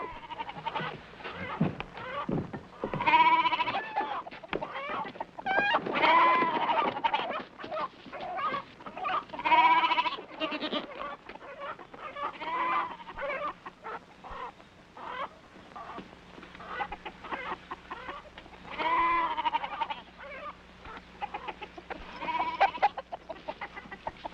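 Goats bleat repeatedly while chickens cluck and squawk throughout, a sustained, noisy farmyard commotion close by.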